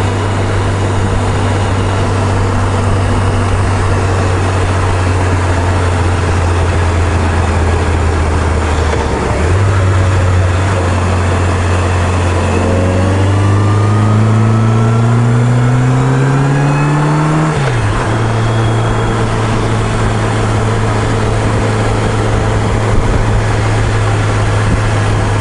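A Harley-Davidson Sportster SL 1200 motorcycle under way, its engine droning loud and steady, then climbing in pitch through the gears as it accelerates before settling back, with wind rushing throughout.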